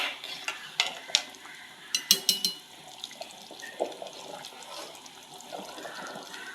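Prawn biryani masala stirred in a pan with ghee: a run of sharp metallic spoon clinks and scrapes, clustered early and fading into a soft steady sizzle-like hiss, close by and without speech.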